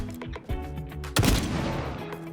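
An odd weapon fires in the video game Hawked: a few light zapping shots give way to a loud, sharp blast with a crackling, sustained tail over a humming game soundtrack.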